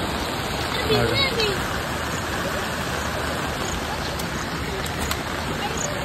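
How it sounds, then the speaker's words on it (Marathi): Dense, steady hiss of heavy monsoon rain pours down continuously near Adai Waterfall in Panvel, with faint voices murmuring beneath the downpour. "पाऊस आले"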